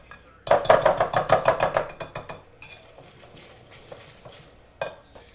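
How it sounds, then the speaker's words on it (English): A spoon scrapes and clinks rhythmically against a mixing bowl while butter and sugar are creamed together for blueberry banana bread, a quick run of loud knocks that slows into softer stirring and a final clack. "Mix it all up so it disappears into the butter and the sugar. We're creaming it together."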